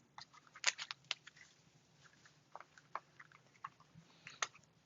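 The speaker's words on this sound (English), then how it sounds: "these cards are hard to shuffle because they're so big" Large oversized tarot cards being shuffled during a pick-a-card reading: faint, scattered papery clicks and soft riffles in uneven bursts, close by and very quiet, with no talking.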